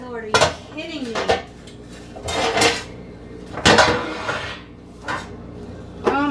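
Metal pots and pans clank and clatter in repeated bursts while a kitchen is being decluttered, loud and close, with a few sharp knocks between the bursts.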